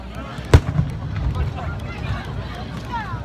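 Fireworks at a display in Japan: one sharp, loud burst stands out early, followed by a softer rumble and faint crackles under wind noise and crowd murmur.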